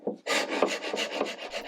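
Wood being hand-sanded during a restoration, a close series of about seven quick, rhythmic rasping strokes back and forth, crisp and fairly loud with no talking.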